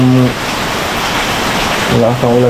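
Loud, constant typhoon downpour hiss fills the clip, with a voice speaking briefly at the start and end over the rain.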